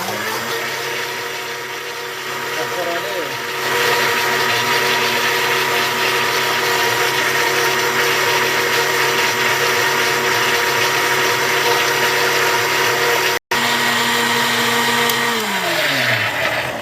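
Blender grinding garlic and lemon, a loud, steady motor roar with churning liquid that runs unbroken for most of the time, with one momentary cutout and the pitch sagging near the end.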